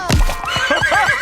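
A cartoon seahorse in SpongeBob: The Cosmic Shake gives a loud, close horse-like whinny that trails into a wavering neigh over about a second, with a clip-clop thud at the start.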